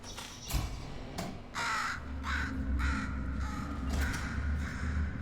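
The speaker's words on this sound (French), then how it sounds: "Corbeau là." Loud, close crow caws in the video game Portal Stories: Mel, several harsh calls in quick succession over a low rumbling ambience.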